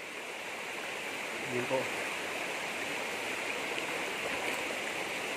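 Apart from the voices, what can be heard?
waterfall and clean river flowing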